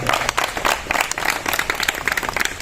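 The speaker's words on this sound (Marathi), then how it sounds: "आपण स्वतःसाठी जोरदार टाळ्या वाजवायच्या" A group applauds itself after performing songs on stage, making a brisk burst of many hands clapping close by, dense and uneven, with no talking over it.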